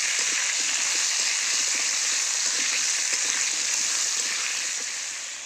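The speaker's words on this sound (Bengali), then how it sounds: "এবার আলুটা ভালো করে ভেজে নেব।" Potatoes with salt and turmeric fry in a pan over a rural cooking fire, a dense steady sizzle with fine crackling that stays loud and close before easing slightly at the end.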